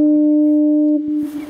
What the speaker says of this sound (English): Come and see the foghorn.